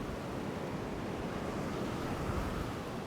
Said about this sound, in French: Ah oui, il y a une tempête de sable.